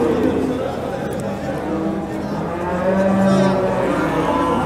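Cattle moo loudly at a busy livestock market in Kastamonu, with drawn-out low calls rising over crowd chatter and nearby voices.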